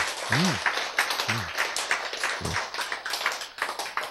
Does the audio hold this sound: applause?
yes